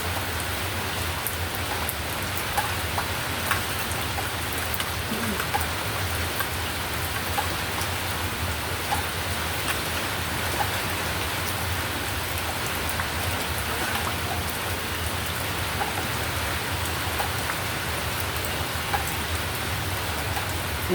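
Steady rain falls on a surface throughout, a dense, even hiss of drops close by with no voices.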